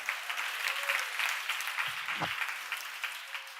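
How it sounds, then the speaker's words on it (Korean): Applause from a church congregation after a pastor's talk, a steady moderate patter of many hands clapping, somewhat distant, with a brief low thump midway. "우리 박수 한번 쳐주세요."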